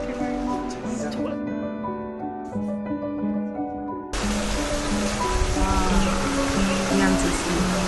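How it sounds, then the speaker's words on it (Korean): A steady rush of flowing water in Panama, near and fairly loud, jumps to a fuller broadband roar about halfway through, with people talking over it; no birdsong stands out clearly. "아, 물소리, 새소리."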